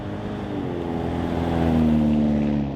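Ford Ranger pickup (2019–2023) with an AWE cat-back dual exit exhaust, a smooth droning engine note that swells slightly as the throttle rises, then eases, heard alone at moderate loudness.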